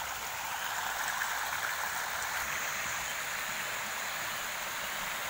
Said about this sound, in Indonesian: kalau udah nyampe ke bawah kayak gede gitu, kayak deres gitu airnya